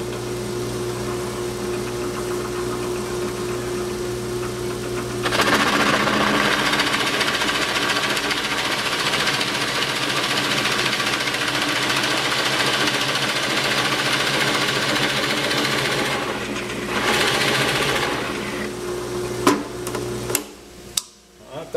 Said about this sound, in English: I've got the stop set for the cutter so it don't bore too deep.